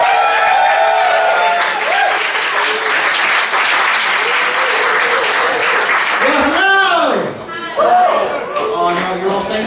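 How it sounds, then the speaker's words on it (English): A stand-up comedy audience on stage night claps and cheers as an act is welcomed, loud dense applause that gives way to a voice speaking through a microphone. "Please help me welcome to the stage, Adam!"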